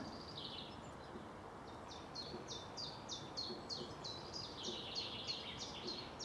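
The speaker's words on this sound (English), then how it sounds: "Chiff chaff in the background." A chiffchaff sings its repeated two-note chiff-chaff pattern, steady and rhythmic, moderately distant over quiet outdoor ambience on a walk near Holmwood, England.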